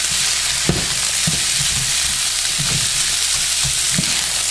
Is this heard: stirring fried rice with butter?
yes